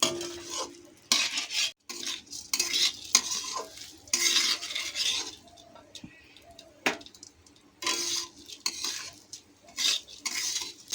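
Rice coated in spices for Basanti polao being fried and stirred in a pot, with repeated scraping and clinking of a spatula and metal over a soft sizzle, in irregular bursts.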